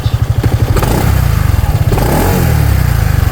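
A scooter engine revs while being ridden on a countryside road, its loud, close, pulsing putter rising and falling with the throttle, with clattering mechanical thumps.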